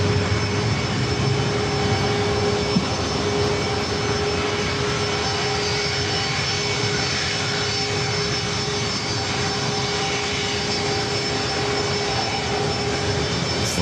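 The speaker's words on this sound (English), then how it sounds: "Got that UPS 767 now crossing over." A UPS Boeing 767 jet crosses over an airport in San Diego, a steady broadband engine roar holding even and loud throughout with a faint tonal whine above it, no voices present.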